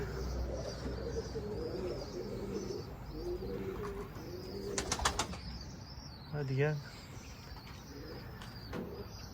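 Pigeons coo and chirp against an outdoor background, with a short flurry of calls midway and someone speaking briefly.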